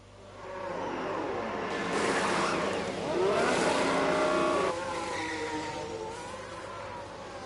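Formula 1 race cars in the F1 Manager 22 Miami race scream past, engines swelling to a peak and fading as they pass, with high whining revs and no talk.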